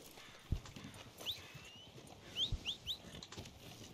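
Horse hooves in the video game Red Dead Online, a few soft scattered clops at a moderate distance with faint bird-like chirps, no talk over them.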